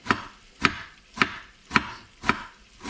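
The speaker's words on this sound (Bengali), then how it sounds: "ছুরিটা শার্প করার কারণে সালাদের টমেটোটা সুন্দরভাবে কাটা যাচ্ছে" A sharp knife slices tomatoes thinly for a beef tomato salad, six crisp, evenly spaced chops on a board about half a second apart, close and alone.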